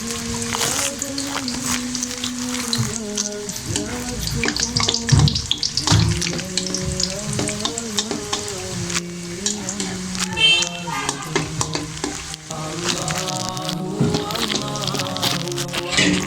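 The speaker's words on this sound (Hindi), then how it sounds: "देखिए कितने अच्छे फ्राई हो रहे हैं।" Chicken samosas deep fry in hot oil, giving a continuous bubbling sizzle under a backdrop of music, with occasional stirring sounds.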